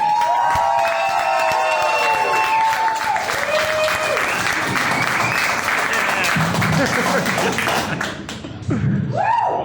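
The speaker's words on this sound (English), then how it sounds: "please give a big round of applause for your final comedian tonight, the JokeDaddy himself" A comedy club crowd greets the night's final comedian with sustained, loud applause, whoops and shouted cheers, clapping steady throughout before thinning near the end as voices rise.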